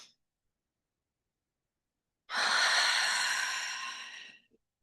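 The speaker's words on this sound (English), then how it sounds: "take 3 slow, deep breaths" One slow, deep breath drawn in through the nose, a steady airy inhale about two seconds long heard close and alone after silence, fading gradually at the end.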